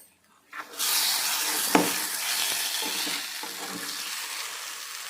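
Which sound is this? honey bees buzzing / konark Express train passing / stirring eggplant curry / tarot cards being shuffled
stirring eggplant curry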